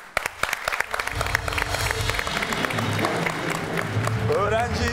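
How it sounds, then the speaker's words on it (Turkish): A studio audience on a Turkish TV talk show breaks into applause for a woman, starting with a few sharp claps that swell into steady clapping, with voices talking over it. "Vallahi hanımefendiye kocaman bir alkış."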